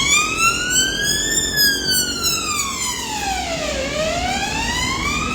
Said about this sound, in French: c'est une ambulance qui est en train de passer